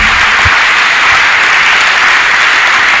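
A church congregation applauds Jesus with loud, dense, continuous clapping that fills the space evenly from start to finish, with no voices standing out.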